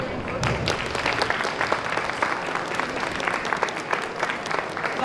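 At the Tucson Japanese Festival main stage, the crowd gives another round of applause for the Arizona Kyudo Kai archery group, a steady, full wash of clapping from many people, with a voice faintly present under it.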